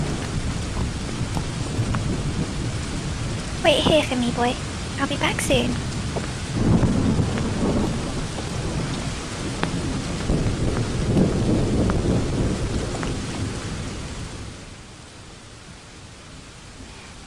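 Steady rain with rolling thunder in the Star Stable horse-riding video game, a constant wash of downpour throughout with a louder thunder swell, under brief dialogue before easing near the end.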